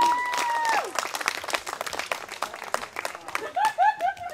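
Scattered audience clapping for a juggling trick at a Renaissance fair street show, crisp individual claps from a modest crowd, with voices calling out and laughing over it.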